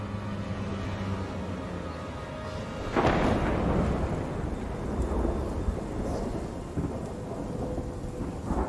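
A thunderstorm with lightning in the video game Arise: steady rain hisses throughout, and a loud thunderclap breaks out partway through, rumbling on heavily afterward.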